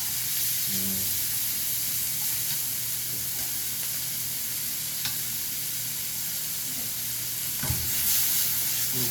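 Steady sizzle and stirring of food being stir-fried in a pan over high heat for a Vietnamese bánh xèo meal, a continuous close hiss with occasional scrapes and no voices.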